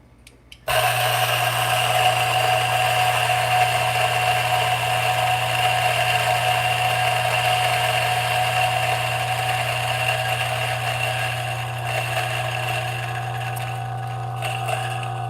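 The built-in grinder on a Breville espresso machine grinds coffee in a loud, steady motorized whir. It starts abruptly after a short quiet moment and runs without a break, with no talking.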